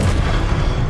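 A Confringo fire-spell blast in the Hogwarts Legacy video game during a duelling trial, a loud, dense, low booming burst that fills the whole second with no pause.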